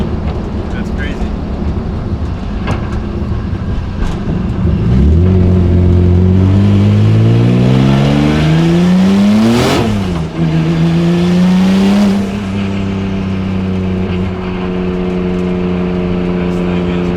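A BMW E36 car engine, fitted with a 2.93 differential and solid differential bushings, revs up and down repeatedly, rising pitch sweeps climbing and falling as it accelerates, loud and close throughout.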